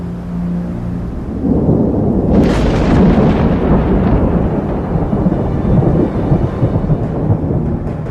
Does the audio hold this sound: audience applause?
no